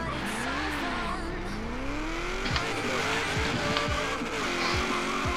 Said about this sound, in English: This thing sounds way more V8 than actual V8.